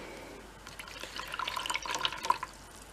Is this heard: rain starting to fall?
no